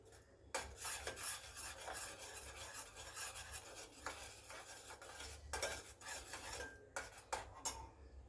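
Dumpling filling is stirred in a pan with a steady scraping, rubbing rasp of a utensil against the metal, continuous and close with brief pauses, with no voices.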